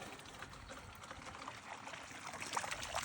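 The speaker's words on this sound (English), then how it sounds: "I'm letting the water kind of come out of there" Water from a Pentair FNS pool filter drains out through the air relief valve, a steady close trickle and pour with faint splashes and no voices.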